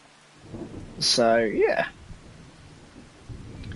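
Rain and thunder in Farming Simulator 2025 during a carrot harvest, a loud rumbling thunder roll swelling over steady rain hiss while someone speaks briefly.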